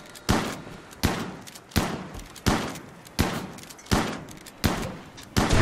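Gunfire in the colony-building video game RimWorld: eight sharp, evenly spaced shots ring out about every 0.7 seconds, each loud crack trailing off briefly before the next, with no voices.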